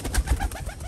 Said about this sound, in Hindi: ये देखें ये कबूतर हैं दोस्तों